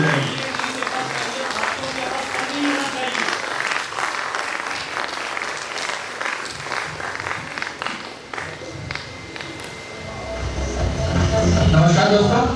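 A large crowd at a company celebration event in Hyderabad claps continuously, a dense steady roar of applause that dips briefly and then swells louder toward the end.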